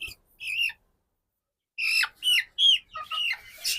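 A crested hen clucks and squawks in short, high, separate bursts, a couple early and then a quicker run of several, close and clear with silence between.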